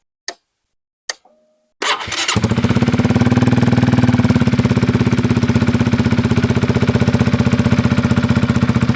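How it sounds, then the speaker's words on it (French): After a couple of clicks, a Honda CB125R motorcycle with a modified exhaust cranks and fires up, settling into a loud, throaty, steadily pulsing idle with a deep rumbling exhaust. "Je vais te faire écouter le bruit du moteur. On va la démarrer ensemble."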